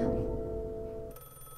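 A telephone rings alone with a bright electronic tone, fairly quiet, over a low background hum, its steady pitch changing partway through.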